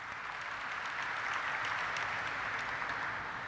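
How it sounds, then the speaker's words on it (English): An audience at a listing ceremony for Emcure Pharmaceuticals Limited gives a guest steady, sustained applause, a dense even wash of clapping without voices. "Please put your hands together for the Managing Director of Kotak Mahindra Capital Company Limited"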